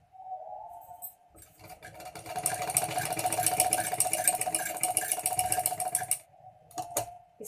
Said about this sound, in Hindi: इस तरीका से सिलाई लग जाएगी।